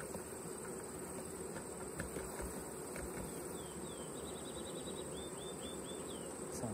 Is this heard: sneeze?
no